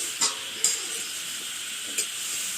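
Duck meat dry-frying on a wood-fired hearth stove gives a faint, steady sizzle, broken by three brief light clinks of a utensil against the pot.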